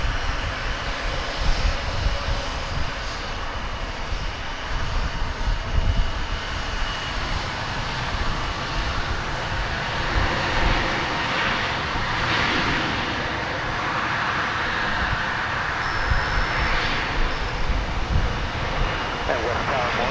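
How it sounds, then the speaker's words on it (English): American Airlines jet taking off from Dallas Fort Worth for Guadalajara, a broad sustained engine roar holding steady throughout, with a voice talking faintly underneath. "here's American Flight 1174 off to Guadalajara in sunny Mexico"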